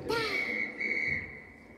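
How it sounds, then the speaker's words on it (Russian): A police officer's whistle at a transport museum gives one short sustained shrill blast, fairly close, as a voice sounds faintly at the start. "дядя полицейский свистит"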